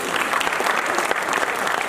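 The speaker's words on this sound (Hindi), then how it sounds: "तो चौधरी साहब के लिए जोरदार तालियां।" Audience applause for a Chaudhary-role performer at a live stage show, a dense steady wash of clapping that holds loud and even throughout with no voices over it.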